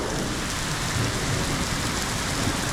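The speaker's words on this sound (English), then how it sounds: "it's hailing right now." Heavy hail and rain pour down steadily outdoors, a dense, loud hiss of pelting drops on surfaces with a low rumble beneath, no talking.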